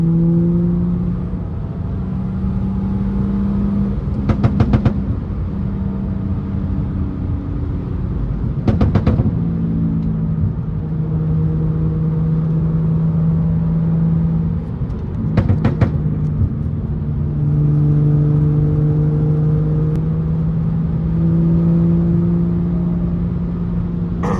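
A manual BMW 335i with the N55 engine and fully straight-piped exhaust drones loudly while driving on a winding road, with a few sharp bursts of revving between steady cruising rumble, no talk.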